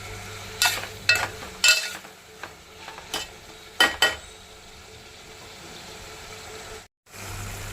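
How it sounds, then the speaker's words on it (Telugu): Eggplant curry made with black brinjal is stirred in a pan, with a spoon knocking and scraping several times in an irregular rhythm, close, over a steady low sizzle of frying. No one talks. "మధ్య మధ్యలో కలుపుకుంటూ ఉండాలండి"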